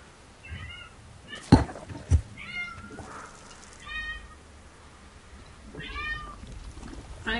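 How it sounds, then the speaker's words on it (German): A domestic cat meows several times in separate short calls spaced across a few seconds, fairly close, with a couple of dull thumps early on and no talking over the cries. "Meine Katze nervt schon wieder."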